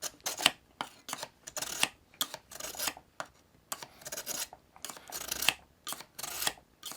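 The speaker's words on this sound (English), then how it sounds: "Run it through the ceramic rods. Listen to the sound." Repeated bright, raspy scraping strokes of a knife blade drawn through ceramic sharpening rods on a Smith's Jiffy Pro sharpener, in quick irregular bursts, close up and fairly quiet, no talking.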